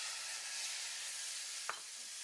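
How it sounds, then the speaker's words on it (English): Carrots fry in a couple teaspoons of oil in a pan for Korean jap chae, giving a steady, close, bright sizzle with one soft stir-clack near the end and no talk. "We'll add the oil again, a couple teaspoons, and we're going to cook the carrots."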